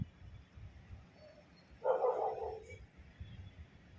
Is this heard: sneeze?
no